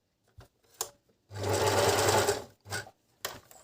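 A Beckmann sewing machine stitches fabric in one loud, close burst of about a second, framed by a few short clicks and whirs of the needle being set.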